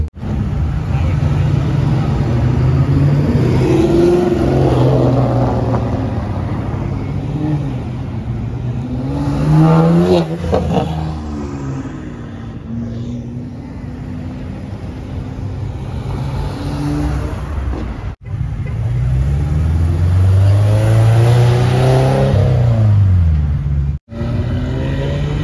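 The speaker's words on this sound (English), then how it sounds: "Stupid loud on that Corvette." Cars pulling out of a Cars and Coffee meet, including a very loud Corvette exhaust, with close engines rumbling and revving in several rising surges as vehicles pass by one after another, and people talking nearby.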